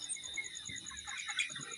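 Broiler chickens in a farm shed cluck and chirp softly over a steady high whine of background noise, with faint rustling and movement nearby.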